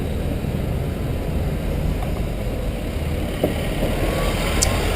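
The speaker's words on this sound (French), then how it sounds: "Les voitures elles passent" Steady road traffic on rue Garibaldi in Lyon, cars passing nearby at a red light while a cyclist waits, a continuous broad rumble with faint higher whooshes and no talking.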